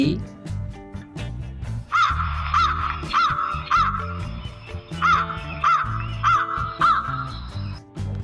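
A cartoon crow caws in a repeated series of sharp, evenly spaced calls over background music, with voices talking around the calls.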